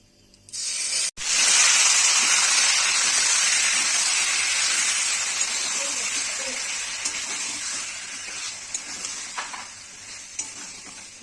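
Marinated chicken coated in a paste of turmeric, chilli and cumin hits a hot wok and breaks into a loud, steady sizzle that slowly softens, with faint stirring scrapes.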